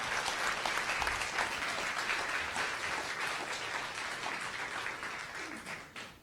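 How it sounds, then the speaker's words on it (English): Audience applause at a Science Cafe lecture on medicinal microbes, a dense, steady wash of many hands clapping that carries on for several seconds and thins toward the end. "let's give him a round of applause"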